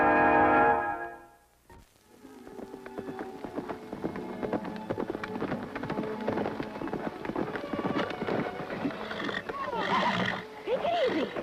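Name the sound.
horse neighing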